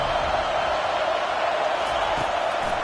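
Football stadium crowd roaring steadily during a game against Michigan to help the defense, a dense continuous wall of cheering.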